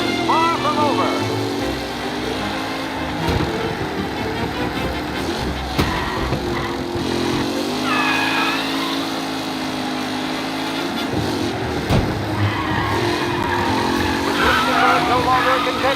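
Race cars roar through a race in Mafia Definitive Edition gameplay, engines droning and shifting pitch with occasional tire squeals, loud and continuous beneath a talking voice.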